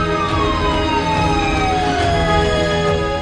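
An ambulance siren sounding loud and steady throughout, its wailing tone sweeping smoothly downward over a constant background rumble, with no voices present.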